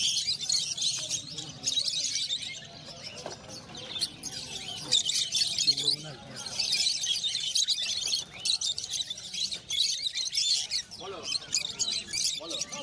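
Pigeons chirp and coo at Shantipur market during the rainy season, scattered bird calls that come and go amid a busy crowd with people talking nearby.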